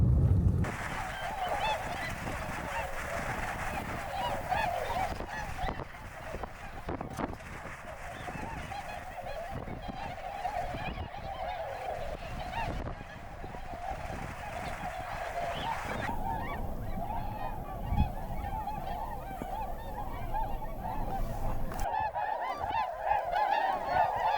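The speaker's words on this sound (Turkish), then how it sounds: "küçük kuğuları ve normal kuğuların olduğu bir topluluğa rast geldik" A flock of swans calling together, with overlapping honking cries that continue steadily throughout, fairly close and loud.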